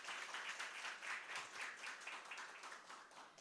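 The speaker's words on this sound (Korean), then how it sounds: "한 분 한 분 소개해드릴 때마다 따뜻한 박수로 환영해 주시면 감사하겠습니다" Warm audience applause welcoming guests at a youth-support campaign launch ceremony, a steady dense wash of many hands clapping at fairly low volume, with no speech over it.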